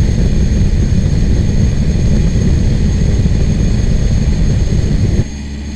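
Cessna Caravan 208 amphibian taxiing to the runway, its turboprop engine a loud, steady droning roar that holds evenly and then drops off abruptly near the end.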